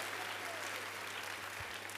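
A church congregation claps in praise of Jesus, a steady, even wash of applause from the crowd that stays level throughout, heard from a distance with a faint background hum.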